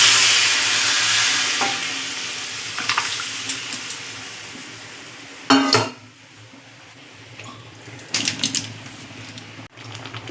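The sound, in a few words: stirring pumpkin greens and pea dal with sugar in a pan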